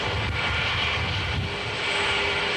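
Concorde supersonic airliner engines roar loud and steady with broad, continuous rumble and hiss, no voices over it.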